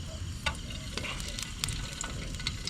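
An egg for a bullseye fries in hot oil in a thin-bottomed pan at an outdoor camp, a steady crackling sizzle with sharp pops and spatters throughout, fairly close and moderately loud with no talking.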